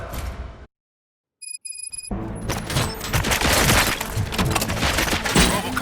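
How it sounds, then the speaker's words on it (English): Gunfire in the RoboCop: Rogue City video game: a burst of shots, a near-silent gap with faint electronic beeps, then dense rapid shooting and booms that continue loudly to the end. "Gunshots? What's going on?"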